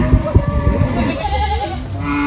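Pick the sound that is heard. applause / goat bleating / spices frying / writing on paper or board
goat bleating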